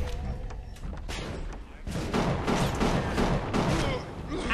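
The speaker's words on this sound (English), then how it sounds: "Is that grenade launcher? Frag!" Grenade launcher fire in the BioShock video game: a dense run of booming, thudding shots and blasts, loud and continuous through most of the span, with a voice speaking over the game sound.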